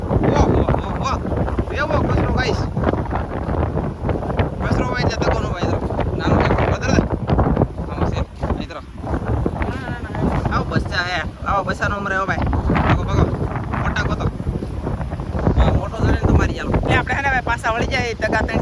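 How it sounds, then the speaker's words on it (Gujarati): Strong wind at sea roars and buffets the microphone nonstop, a dense rumbling gusting noise with water and boat sounds mixed in, and a voice speaking underneath during fishing. "પવન બહુ છે"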